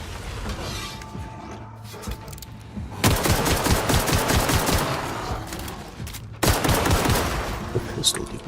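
Pistol gunfire in the sci-fi video game The Outer Worlds, loud dense bursts of rapid shots, one run lasting a few seconds and a second volley after a short pause.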